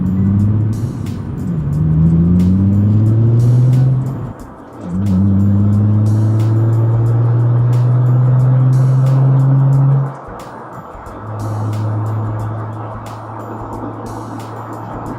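A 2003 Nissan Skyline 350GT drives with its engine climbing steadily through the gears, each rise in revs broken by a short dip at a shift, loud and close from the cabin.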